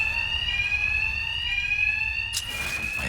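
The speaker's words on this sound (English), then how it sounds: "My attacks will be covered by the noise of the alarm." A steady electronic alarm rings continuously in Batman Arkham Knight, a piercing repeating tone with a brief noisy burst near the end.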